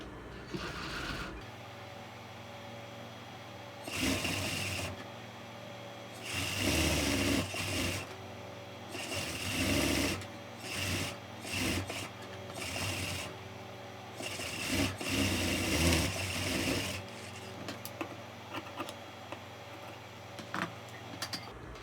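A sewing machine stitches a blouse in repeated bursts of steady mechanical whirring, each run a few seconds long with short pauses between, close and clear with no talking.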